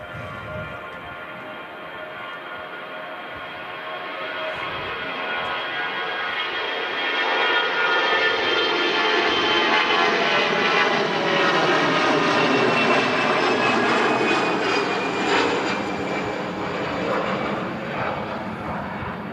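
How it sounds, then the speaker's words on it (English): A Lufthansa Airbus A319 jet rolls for takeoff at Manchester bound for Frankfurt, its engine roar swelling from a moderate whine into a loud, rising, sustained rumble that peaks midway and holds as the aircraft climbs away. "On a roll, Lufthansa A319 back to Frankfurt"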